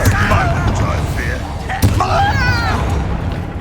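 Fire-spell blasts go off in the Hogwarts Legacy video game, a sharp percussive burst punching through game effects and shimmering magical tones while a voice calls out over the action.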